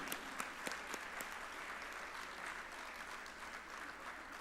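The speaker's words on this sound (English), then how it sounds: "I request everyone to give a round of applause to this wonderful team." Audience applause for a team at an inauguration function, a steady, dense patter of many hands clapping at moderate distance, continuous throughout with no talk.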